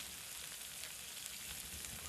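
Onion added to hot spiced oil for a Rajasthani gatte curry, giving a steady dense sizzle and crackle that stays even throughout, with no talking.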